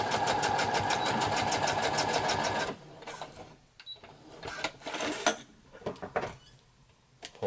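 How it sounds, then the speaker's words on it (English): A sewing machine runs a single straight stitch down the middle of an X-Wing pilot belt and ejection harness, with a fast, steady mechanical chatter for under three seconds. It then stops abruptly, leaving quieter handling sounds. "go to a single straight stitch right down the middle"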